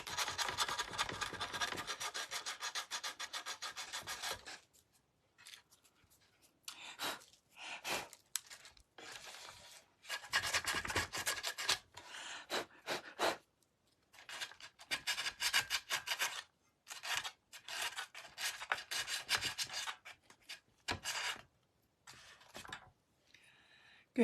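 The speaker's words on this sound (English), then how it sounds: "I do like to sand the edges" Sandpaper rasping along the edges of a craft pumpkin coated in Mod Podge, a close, steady scratchy rubbing in repeated bursts with short pauses between strokes, alone without talk.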